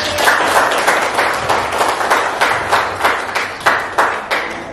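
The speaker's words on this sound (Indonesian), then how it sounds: "Kasih aplaus dulu ya." An audience applauds after a group's chemistry presentation in a classroom, with dense, close clapping that keeps a pulsing rhythm and fades a little toward the end.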